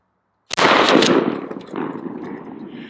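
A single loud, close 12-gauge blast from a Challenger mini shell loaded with #4 buckshot cracks out of silence, followed by a rolling echo that fades over the next couple of seconds.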